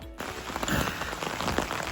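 Steady heavy rain pours throughout on a campsite, a dense broadband patter with scattered louder drops, close and continuous with no voices.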